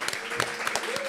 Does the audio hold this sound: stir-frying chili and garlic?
no